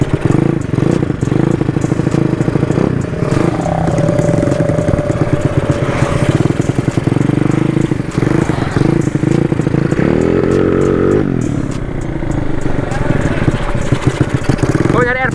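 Race-spec Yamaha Mio motorcycle revving hard at full throttle, a loud, close engine whine that climbs in pitch as it pulls away, with people talking over it.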